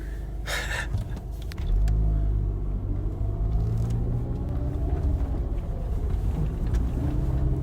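A car without all-wheel drive climbs a muddy road, its engine rumble jumping louder partway through and holding as a heavy, straining drone, with a short gasp-like noise near the start.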